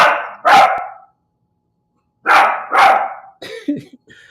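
A dog barks loudly and close by in two quick pairs of barks with a silent gap between them, followed by a few softer, shorter yips.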